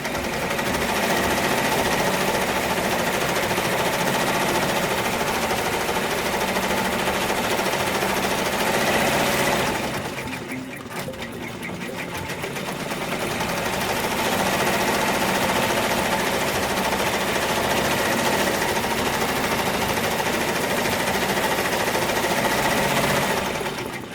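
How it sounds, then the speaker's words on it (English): An embroidery machine stitches around a headband with a loud, dense, continuous mechanical rattle and hum, briefly dropping and easing near the middle before resuming at full volume. "it's going to stitch all the way around"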